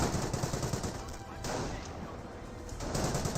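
Machine gun fire from an MMG carrier in the Company of Heroes video game, a dense, continuous rattle of rapid shots that stays loud and unbroken throughout.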